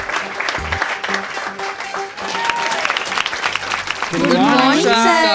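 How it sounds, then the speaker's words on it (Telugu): A class applauds a student in a college classroom, with scattered clapping under a voice and music that swells to fuller applause over the last second. "గిరికి అందరూ ఒకసారి క్లాప్స్ కొట్టండి"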